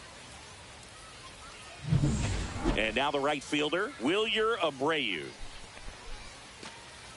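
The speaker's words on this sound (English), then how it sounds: "This rain is not letting up." Steady rain hiss from a baseball video game, a Road to the Show career mode, running faintly under a stadium announcer calling out the next batter.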